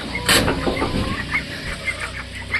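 Several hens brought from a rural weekly market cluck and squawk close by in a busy yard, with one loud burst early on and softer repeated clucks through the rest.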